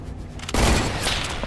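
Gunfire in the video game Fortnite: quiet at first, then a sudden loud burst of rapid shots and booms that continues as a dense volley to the end.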